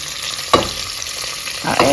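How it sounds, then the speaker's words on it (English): Turkey butts fry in oil in a pan, a steady close sizzle with a couple of scraping stirs of a utensil against the pan. "The turkey butts have been going in the pan for about 3 minutes."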